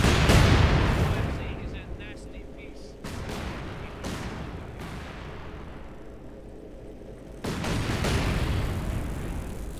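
An artillery barrage in the Company of Heroes 2 game, with repeated heavy booming impacts and sharp blasts that come in bursts, followed by a rumbling wash of noise between them.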